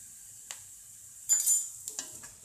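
Small medium-sized onions frying in a pan until golden, a soft steady sizzle with occasional louder bursts of stirring and scraping, close and alone.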